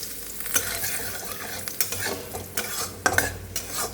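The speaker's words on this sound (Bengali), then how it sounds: "এখন সেই তেলে গোটা গরম মশলা জিরে ফোড়ন দিয়ে দিলাম" Whole garam masala and cumin seeds crackling in hot oil, with a continuous close sizzle and scattered pops and light scraping of a spoon in the pan, no voices.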